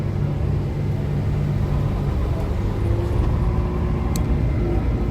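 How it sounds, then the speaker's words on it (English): Car interior on Montreal streets heading toward the port, a loud steady low engine and road rumble throughout, no one talking. "We driving down towards the port right now."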